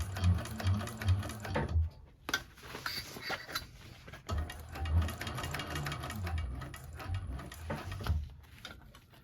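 A 1341 cylinder arm sewing machine stitches a bag seam at stitch length 4.5, with bursts of motor hum and rapid needle chatter, pausing briefly around two seconds before running steadily again, close and fairly loud.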